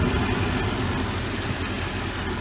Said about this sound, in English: Belt's all spinning properly.